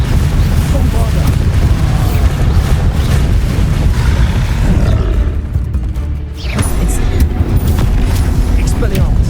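Bombarda explosion spell from a Harry Potter magic video game: loud, dense booming blasts and roaring rumble fill the stretch, easing briefly before surging back.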